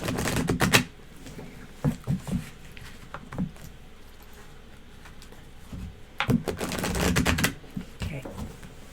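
Soft riffling and slapping of tarot cards being shuffled, in short bursts with quieter shuffling between them.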